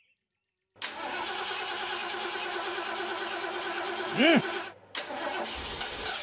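A car engine cranks steadily but fails to catch, a continuous whirring starter drone that halts briefly before cranking again, with a short spoken exclamation mixed in near the end.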